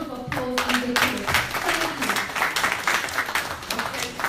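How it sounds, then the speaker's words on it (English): Audience applause at a women-in-politics forum, given for the mayor: a steady wash of clapping from a room full of people, sustained and fairly even for several seconds, with a few voices mixed in. "So please, give her a round of applause and thank you."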